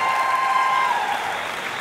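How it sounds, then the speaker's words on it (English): A short burst of audience clapping in a concert hall, loud and dense, with a brief ringing tone fading under it. "another round of applause."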